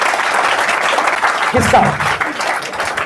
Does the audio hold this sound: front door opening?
no